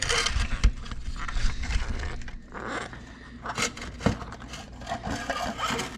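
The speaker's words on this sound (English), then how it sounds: "this little kind of rubber boot, which you can just pull right off, right there" A rubber boot is pulled off the back of a Kawasaki KLX300 motorcycle headlight housing, giving close rubbing and squeaky scraping sounds in short irregular bursts, with no talk.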